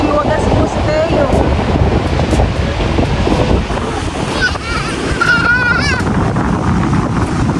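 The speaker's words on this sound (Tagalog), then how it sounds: "malakas ang alon. Nakakatakot." Strong sea waves crash and roar on a beach in Zambales under constant blustery wind buffeting the microphone, with voices faintly audible in the background.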